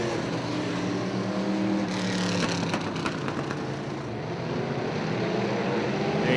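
UMP modified race cars at Eldora Speedway in Rossburg, Ohio roar steadily down the backstretch of the dirt oval, a loud continuous engine drone that swells and fades slightly as the pack passes.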